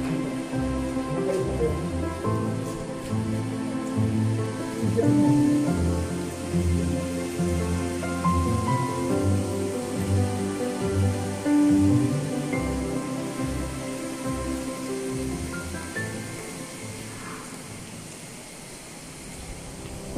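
Steady rain patters on a surface throughout at a resort, a continuous close wash of drops with no voices.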